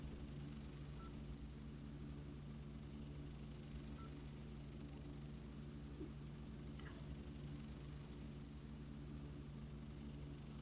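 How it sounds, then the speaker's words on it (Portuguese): Airliner engines idling during taxi in the game AirLine Commander, a steady loud droning hum with a constant low tone, continuous and unchanging throughout. "Estamos fazendo taxiamento."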